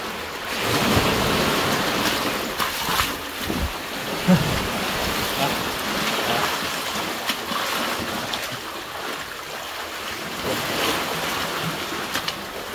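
Ocean surf at Merdeka beach while fishing, a loud continuous wash of breaking waves and rushing water filling the scene, with wind-like roar and occasional splashes.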